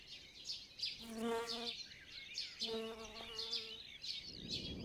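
Mason bees and a cuckoo wasp buzz near a bee hotel nest, close and steady, with two longer droning passes standing out over a constant faint hum.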